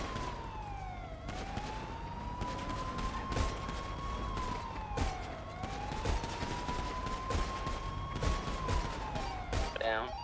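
Gunfire opens up on a vehicle during a freeway pursuit in a video game, with bursts of shots cracking under a wailing police siren that rises and falls in long sweeps, while voices talk over the chase.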